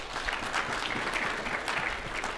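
Congregation clapping in a church, a dense, steady wash of applause from many hands that holds across the whole short stretch without speech.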